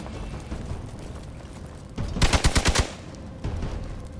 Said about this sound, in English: That was a gun.